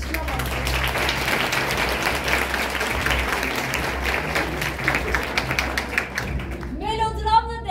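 A school audience at a teachers' symposium with improvised theatre bursts into sustained applause, dense clapping lasting several seconds before it fades and a voice begins speaking.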